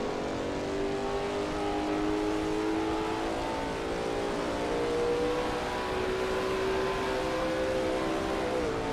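Lola T70 MkII Spyder race car at Riverside in a racing video game: a steady droning engine note holds and slowly rises and shifts pitch as it drives on through a corner, with a constant hiss underneath and no voices.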